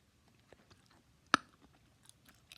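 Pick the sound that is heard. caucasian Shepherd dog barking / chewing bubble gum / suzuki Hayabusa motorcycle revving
chewing bubble gum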